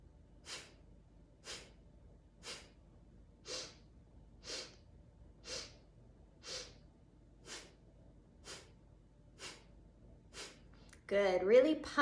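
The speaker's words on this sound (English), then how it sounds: "4 sniffs in through the nose" Rhythmic sniffing breaths through the nose during a kundalini-style pranayama exercise, about a dozen short, evenly spaced sniffs, one per second, close and soft, with a voice starting to speak at the very end.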